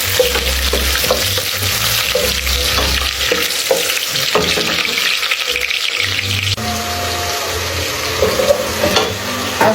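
Onions for jollof rice fry in a pot with a loud, continuous sizzle, while a spoon scrapes and stirs them in uneven strokes.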